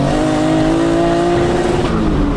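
A loud turbocharged BMW E36 engine of 650 horsepower holds steady high revs with a strained, buzzing tone, bouncing against its rev limiter under the roar without dropping off.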